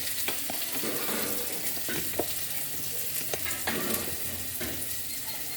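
Potatoes fry in a pan with a constant close sizzle and several sharp clacks of a spatula stirring, no voices.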